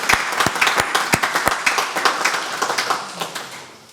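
Church congregation applauds during a Sunday service to honour a member's 100th birthday, a modest round of individual claps, steady and then thinning out toward the end.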